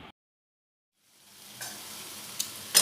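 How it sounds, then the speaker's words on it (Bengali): Mushrooms frying in a pan for a mushroom and potato curry, a low steady sizzle rising after a brief silence, with a few sharp scrapes of stirring near the end. "এবারে ছাতুটা খুব ভালোভাবে ভেজে নেব।"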